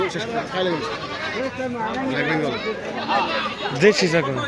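Black Bengal goats bleating at a busy cattle market in Gazipur, heard amid dense crowd chatter and people talking nearby.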